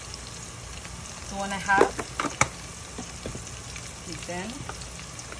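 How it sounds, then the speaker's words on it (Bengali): Marinated meat frying in a pan for a chicken curry gives a soft steady sizzle, quiet and continuous, while a voice talks briefly over it. "যেটা আমি ফ্রাই করছি, এই তো ফ্রাই করার মাংস"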